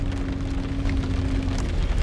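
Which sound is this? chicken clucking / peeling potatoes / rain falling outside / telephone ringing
rain falling outside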